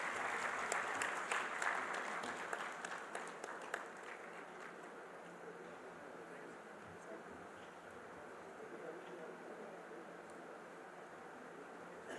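Applause from a conference audience at an urban development gathering starts strong and busy with sharp individual claps, then settles into a quieter, even roar that carries on steadily in a large hall.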